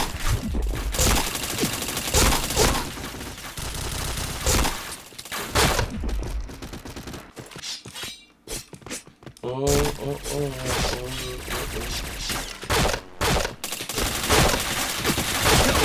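Dense gunfire in a shooting video game, with rapid automatic bursts, sharp shots and breaking sounds running almost nonstop and loud, dipping briefly midway, while a player talks over it.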